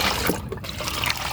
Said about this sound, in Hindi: अभी हम इसे इस पानी में डाइल्यूट कर लेते हैं और इसे अच्छी तरह से मिला लेना है